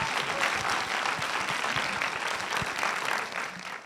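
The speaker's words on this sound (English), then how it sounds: "So give them a round of applause as they make their way down." An auditorium audience at a film festival keynote applauds steadily for the speakers, a dense sustained clapping that fades slightly toward the end.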